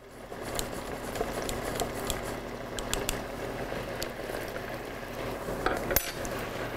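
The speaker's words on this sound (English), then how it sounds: "We're now going to whisk up a little bit of cornstarch with about a tablespoon or so of water." A small whisk taps and scrapes quickly against a bowl while mixing cornstarch with about a tablespoon of water, a soft rapid patter of clinks with a few sharper knocks, close and fairly quiet.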